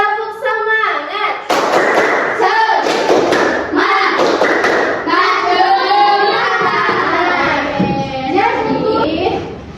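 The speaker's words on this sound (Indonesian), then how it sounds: "Yuk kita tepuk semangatnya dulu. Tepuk semangat." A classroom group doing a rhythmic clapping chant, loud sharp claps in quick patterned bursts mixed with children's voices chanting along, following a teacher's spoken lead.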